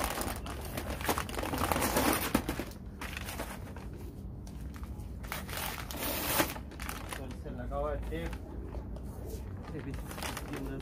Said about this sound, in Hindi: अभी जो है हम जाली खोलते हैं, और जाली खोल के आपको दिखाते हैं